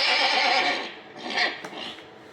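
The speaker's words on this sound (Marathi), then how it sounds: "घोडे ठेवले, घोड्याचा आवाज." A horse neighing sound effect plays from a talking 3D gold-plated picture: a loud, descending whinny followed by softer, shakier neighs trailing off, with no talking.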